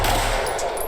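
A real replica Halo magnum fires at a target, a short burst of sharp, loud reports packed close together in under a second, with no voices.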